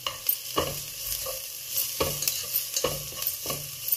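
Two medium sliced onions sautéing in a pan for Italian aubergine and egg, a soft sizzle broken by repeated scraping stirs of a utensil, close and alone.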